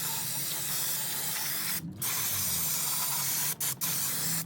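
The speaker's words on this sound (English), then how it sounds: "Just wanted to spray that off," Cleaner sprays in long pressurized hissing bursts onto a Road King motorcycle engine, loud and close, with one brief gap and two quick stops near the end.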